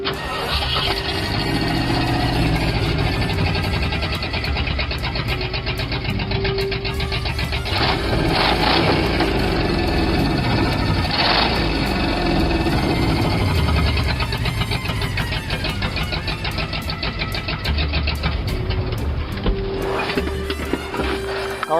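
A 1975 Ford F100 truck's V8 engine runs steadily on stock exhaust manifolds, a loud, continuous rumbling idle with slight revving swells and no talk, heard up close throughout.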